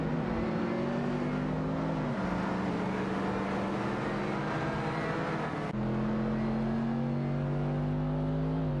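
Race cars overtake in an AI racing video game, giving a continuous, close, droning engine whine that shifts pitch as the cars run side by side, with no voices.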